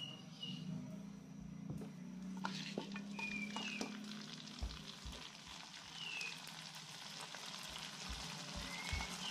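Chicken feet for spicy ceker mercon hit a hot wok and fry with a soft, steady sizzle, broken by scraping stirs and small taps of the utensil against the pan.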